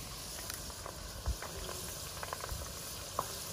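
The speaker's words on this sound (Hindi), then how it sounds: "5 से 7 मिनट तक इनको जो है वो हमने फ्राई किया है दोस्तों।" Okra (lady finger) frying in a pan over a wood fire, a soft steady sizzle with scattered small pops and crackles, fairly quiet.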